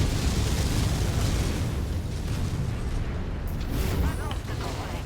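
Dense, sustained rumble of missile explosions pounding an Atlas AS7-RS mech in the MechWarrior game, loud and unbroken, with booming bursts layered over a steady low roar.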